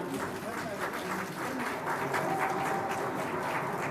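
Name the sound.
applause at platform launch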